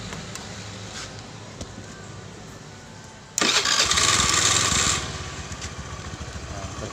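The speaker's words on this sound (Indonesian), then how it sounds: "Ini motor nyala karena aki 12 voltnya sudah saya cas ya." A Honda Beat FI motorcycle engine cranks and catches abruptly on a charged 12-volt battery, revving loudly for a moment before settling into a steady idle nearby.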